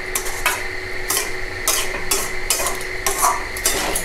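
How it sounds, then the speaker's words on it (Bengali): Bottle gourd is stirred and mashed in a pan on a gas stove, with repeated scraping strokes of a utensil against the pan over a soft sizzle, close and steady, with no voices. "যত নাড়বো তত লাউটা মিশমিশ হয়ে যাওয়ার মতন হবে।"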